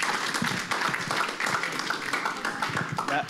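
A talk-show studio audience applauds a guest being introduced, a moderate, slightly uneven spatter of hand claps that carries steadily throughout without any voice over it.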